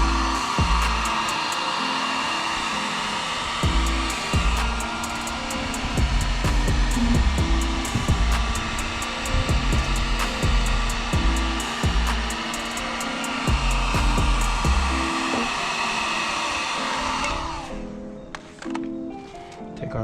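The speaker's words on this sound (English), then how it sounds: "We're gonna go ahead and get our heat gun." A heat gun blows hot air steadily and loudly for about seventeen seconds while softening badges on a 2015-2020 Jeep Grand Cherokee, with faint clunks beneath, then cuts off abruptly, leaving quieter handling noises.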